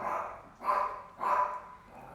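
A dog barks repeatedly in a steady rhythm, three clear barks close by with short gaps between them and no talking over them.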